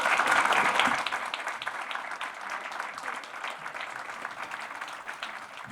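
Audience applause follows a speaker's closing words at a business trends event, loudest in the first second and then settling into a steady, slightly thinner clapping that runs on for several seconds.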